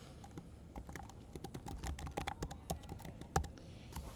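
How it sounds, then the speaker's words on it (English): Typing on a computer keyboard to sign in to a math practice website, heard as a close, irregular patter of light key clicks with occasional louder taps and no speech. "I'm going to type in for my son."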